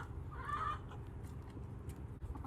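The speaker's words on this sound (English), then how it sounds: "This is our other set of hens," Hens on a snowy smallholding cluck faintly in a brief call over a low steady outdoor rumble, with no talking.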